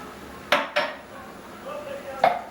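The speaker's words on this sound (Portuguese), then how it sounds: "E aí eu vou mexer isso aqui, vou dar uma pré-incorporada nessa massa" Panini dough with lard and olive oil being mixed in a bowl, heard as three sharp utensil clacks against the bowl, two close together early and one later, over a faint room background.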